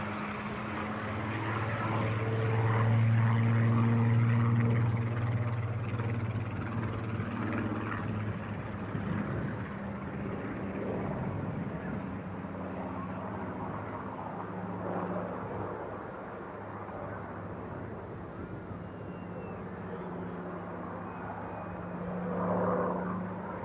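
A Spitfire powered by a 2,000 horsepower Griffon 66 engine flying at the Eastbourne International Airshow, a sustained loud engine drone that swells early and then settles into a steady, distant roar.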